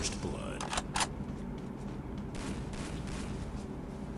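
Gunfire in the video game Free Fire crackles in rapid bursts of sharp shots near the start, then thins into scattered fainter reports under a player's excited talk.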